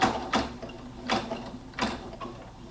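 A sewing machine stitching slowly on a baby hat, giving soft mechanical clunks at a steady pace, about three main strokes, quiet and close with no talking.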